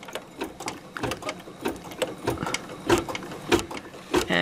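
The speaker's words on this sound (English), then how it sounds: "And it's stitching" A DesignWorks embroidery machine stitches a cutwork coaster, its needle hammering in a fast, steady mechanical rhythm, loud and close throughout.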